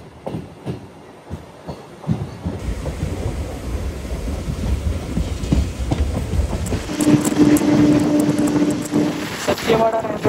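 A MEMU passenger train pulls away from the station and gathers speed, its rumble building from a quiet start into a loud, steady roar with intermittent clatter, and a voice speaking over it.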